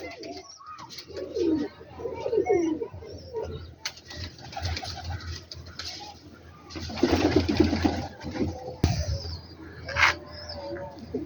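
Pigeons coo in low, throaty bursts at close range in Rawalpindi, with a few wing flaps and someone talking intermittently.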